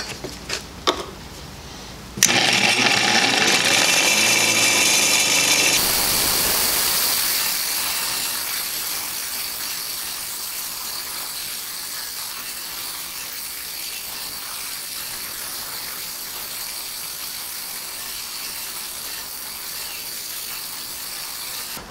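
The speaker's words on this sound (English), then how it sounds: "we're gonna go to the wire wheel, clean up all this grime, and get this thing cleaned up and fixed up" A wire wheel grinds grime off American Standard push-pull shower faucet parts, a loud, steady abrasive whir that starts abruptly after a few light knocks and continues alone, gradually easing in intensity.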